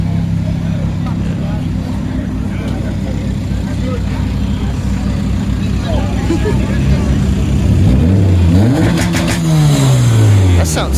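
A turbocharged car's engine rumbles loudly and steadily at a car meet, then revs rise and fall near the end; nearby voices talk over the engine noise.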